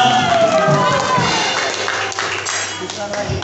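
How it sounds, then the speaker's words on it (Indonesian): Church congregation at a Sunday service applauding dancers, clapping and crowd noise blended with voices, steady then easing off over a few seconds. "Berikan tepuk tangan untuk mereka"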